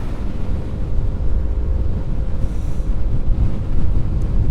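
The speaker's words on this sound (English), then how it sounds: "we have the wind from behind" Constant loud wind buffeting the microphone while cycling home around the IJssel lake with a tailwind, a dense low roar that fills the whole stretch with no speech.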